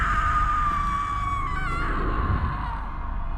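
A woman's drawn-out, high-pitched scream from the 2009 film X-Men Origins: Wolverine wavers and slowly fades, with a low rumbling backdrop underneath.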